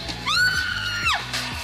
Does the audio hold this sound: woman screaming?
yes